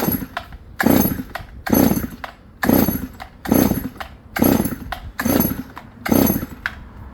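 A new chainsaw revs loudly in repeated bursts about once a second, each surge dropping back briefly before the next. The saw is close and no one speaks over it.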